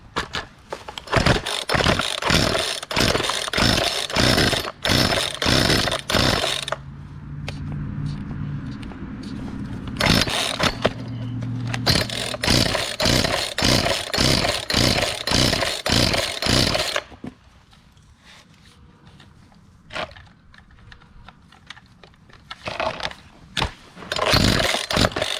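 An old Poulan 2450 chainsaw with an 18-inch bar, primed and choked, being pull-started: fast rhythmic bursts of cord pulls, a brief sputtering engine tone in between, then more pulling and a quiet pause before a final few pulls.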